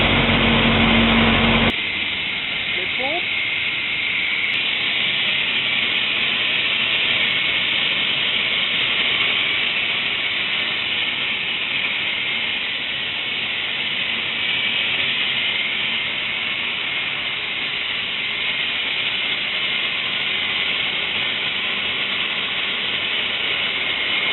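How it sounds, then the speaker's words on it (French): Steam being produced on an industrial site roars out as a loud, continuous broadband hiss that starts abruptly and holds steady without letup, close and overwhelming. "on commence à produire de la vapeur là"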